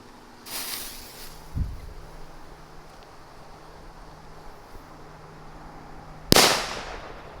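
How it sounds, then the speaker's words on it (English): Brown wrap firecrackers at a Fourth of July fireworks show burst in sharp, loud cracks against faint outdoor wind noise, the last blast the biggest and trailing off in a hissing decay. "There goes a brown wrap cracker."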